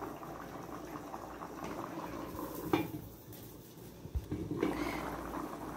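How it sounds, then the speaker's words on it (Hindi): Macaroni boiling in a pot of water: a steady bubbling simmer close by, broken by a couple of sharp metal clinks of a utensil against the pot. "हम देखेंगे कि ये अच्छी तरह बॉईल हो गए।"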